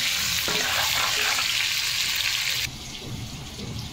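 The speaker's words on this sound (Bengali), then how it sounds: "লবণ আর হলুদ দিয়ে আলুগুলোকে ফ্রাই করে তুলে নেব" Potatoes fry with salt and turmeric in hot oil, a loud close steady sizzle that drops to a softer crackle partway through, with no voices.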